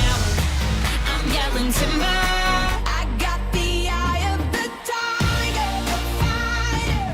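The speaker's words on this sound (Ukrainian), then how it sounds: "Нагадаю, тоді поп-музика звучала ось так." A full pop track plays with a driving beat, bass and layered melodic vocals, continuous and loud, with a brief dip in the middle.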